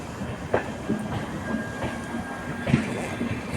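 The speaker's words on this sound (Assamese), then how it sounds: "ট্ৰেইন কিন্তু ইতিমধ্যে বহুত স্পীড লৈছে" A passenger train rolls through Guwahati railway station at speed, a continuous rumbling rattle with repeated clickety-clack wheel beats, close and moderately loud.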